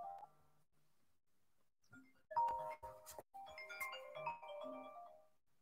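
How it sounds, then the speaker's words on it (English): A mobile phone rings with a faint melodic ringtone, its chiming notes rising and repeating for several seconds in a quiet indoor room, with no talking over it. "My phone was ringing."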